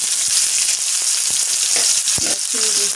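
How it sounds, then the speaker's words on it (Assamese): Onions sizzle and crackle steadily in hot oil for a pasta sauce with small tomatoes, with a broad hiss and occasional sharper pops and stirring knocks. The sound is close and continuous, with no voices. "এতিয়া মই তেলত পিয়াজ খিনি দি দিম"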